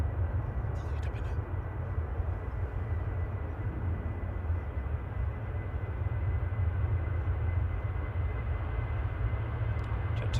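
A Jet2 jet airliner at Manchester Airport produces a steady, broad engine roar that holds constant throughout, moderately loud and heard alone.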